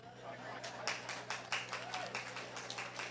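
Shareholders at a Bank of Nevis 40th anniversary event applauding, a thin scattering of claps from a small group, faint and uneven, over a low room hum.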